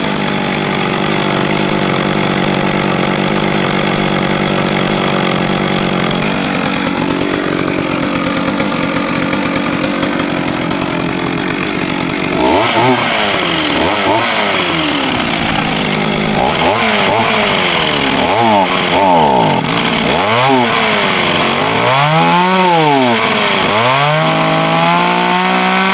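A McCulloch Pro Mac 610 chainsaw runs loud and close, droning at idle before being revved repeatedly in rising and falling bursts of high-pitched two-stroke engine roar.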